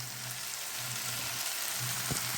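Curry leaves dropped into hot oil for a carrot chutney sizzle with a steady, close crackling hiss that lasts throughout, with a faint soft knock near the end.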